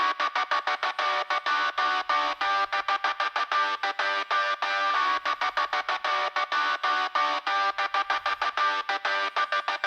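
Layered overdubbed guitars chug in tight, rapid staccato bursts, a chopped rhythm of short stabs separated by tiny gaps, steady and loud throughout.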